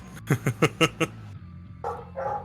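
Dogs let out a quick run of five sharp barks, then go quiet briefly before a couple of softer whining yips follow, fairly close and without any talking.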